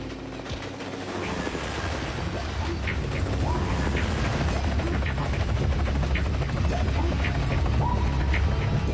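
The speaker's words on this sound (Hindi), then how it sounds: "ये हेलीकॉप्टर से ट्रेन पे क्यों लैंड हो रहे हैं?" Cartoon helicopters come down to land on a moving train, their rotors producing a loud, continuous chopping roar that holds steady throughout, with rattling mechanical clatter mixed in.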